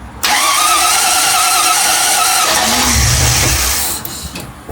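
MGB GT V8 engine cranking and firing up for the first time after a rebuild, a loud close starter whir that catches into a rough, steady running note before cutting off near the end.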